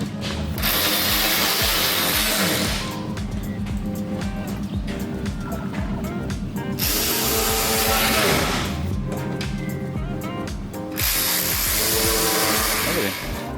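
A ratchet clicks rapidly while tightening bolts on a Corvette Z06 diffuser, with stretches of steady, close clicking broken by short pauses and some shop noise in the background.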